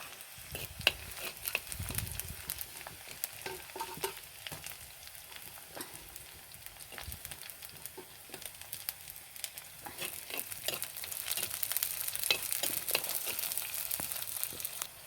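Small onions, garlic and green chilies frying in hot oil for a Kerala-style curry, a continuous close sizzle with frequent scraping stirs and crackles throughout, with no talk.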